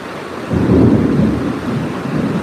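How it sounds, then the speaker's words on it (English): A close, heavy rumble of thunder rolls in over steady rain, swelling loudly then lingering as a low roar. "But that's fairly close, that thunder."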